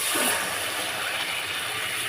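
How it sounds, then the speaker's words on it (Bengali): Water poured into a hot cooking pan of eggplant and potato, giving a continuous rushing, hissing wash that stays level and fairly loud throughout, with no talking. "জল দিয়ে দিলাম"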